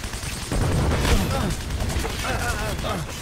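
Close bursts of MP40 submachine gun fire in the Heroes & Generals shooter game, layered over a dense battle mix with a person talking loudly throughout.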